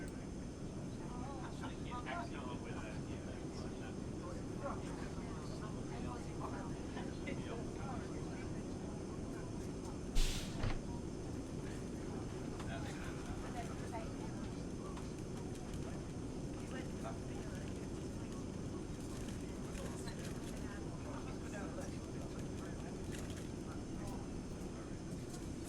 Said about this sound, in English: I want to increase the sounds because this plane has beautiful sounds